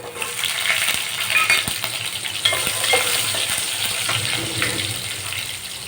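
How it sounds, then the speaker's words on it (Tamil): Chopped garlic cloves and shallots sauté in a pan for pirandai kuzhambu, a steady close sizzle and frying hiss broken by repeated scrapes and taps of a stirring spoon. "ஒரு நாலு பல்லு பூண்டு கட் பண்ணி வச்சுருக்கேன் அதை சேர்த்து கொஞ்சம் வதங்கி வரட்டும்"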